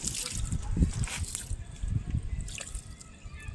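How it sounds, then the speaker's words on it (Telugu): Water splashes and trickles onto a newly planted rose plant in soil, an uneven pour with sloshing bursts, close by, and faint background sounds. "గులాబీ మొక్క పెట్టినప్పుడు ఇలా వాటర్ వేసుకోవాలి."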